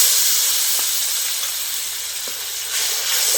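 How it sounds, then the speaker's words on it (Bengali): Water poured into frying ground spice paste for an eggplant dish with mustard and poppy seed, giving a loud, steady hiss of sizzling steam that holds throughout with slight surges. "এবার মশলাটা যাতে না পুড়ে যায় তার জন্য বাটা মশলার জায়গাটা ধুয়ে জল দিয়ে দিচ্ছি"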